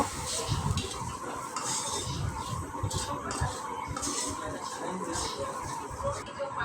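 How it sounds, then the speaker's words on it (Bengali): Fried tempering with culantro leaves is added to lentil dal in a pot and stirred, giving a soft sizzle and scraping spoon-on-metal sounds, close and continuous. "আমি ডালটা এখন বাগার দিয়ে নিব"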